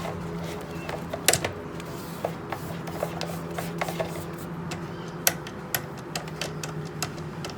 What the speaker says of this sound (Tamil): நீங்கள் மிஷினை மெதுவாக 1வது ஸ்பீடில் ஆன் பண்ணிக்கலாம்